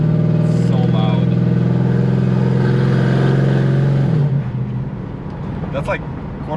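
A 2012 Ford F-150 with a Coyote 5.0 V8 rumbles loudly up close, holding a steady throttle for about four seconds before easing off into a lower, rougher idle.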